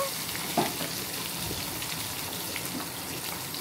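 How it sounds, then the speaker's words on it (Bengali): A tomato and spice masala for vegetarian khichdi sizzles in a pan while being stirred, with a steady frying hiss, a soft scrape near the start and faint clinks, no speech. "মশলাটার মধ্যে টমেটো ছেড়ে দিল, তখন নেড়ে নিচ্ছে"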